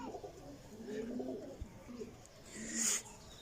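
Champion Teddy Golden pigeon cooing in soft, low, drawn-out phrases close by, fairly faint, ending in a brief sharper rustle or chirp, with no talking.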